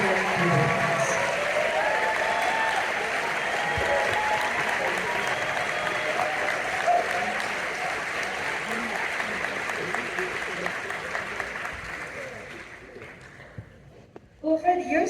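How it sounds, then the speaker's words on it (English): Audience applause at a movie premiere, a long, dense roll of clapping that holds steady, thins and fades near the end, with scattered voices audible underneath. "I just want to give you guys a round of applause."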